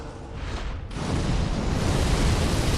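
Fiery explosions from the Firestorm pyromancy spell in Dark Souls III, a dense roaring rumble that swells after a brief lull and holds steady, loud and continuous with no talk.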